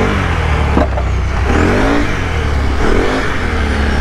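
A four-wheeler ATV engine revs loud and near, holding a steady throttle drone with rising and falling whines as it spins out, and no voices over it.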